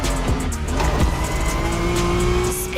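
A 1990s Honda NSX sports car in The Crew Motorfest video game: steady, close engine drone with a rising rev tone and brief tire squeal, continuous and loud throughout.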